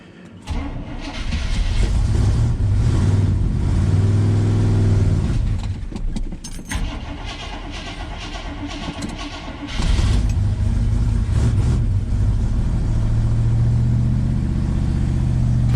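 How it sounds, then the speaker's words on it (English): An old Chevrolet squarebody pickup engine cranks and catches, then runs loud and close, its rough idle rising again near the end as the choke is adjusted. "Let's give old Bad Chad another go around."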